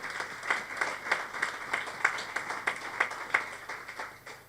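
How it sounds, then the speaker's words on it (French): A church congregation claps for God during a sermon, a faint, fairly rhythmic run of hand claps heard from a distance, with no talking. "Applaudissez alors pour Dieu."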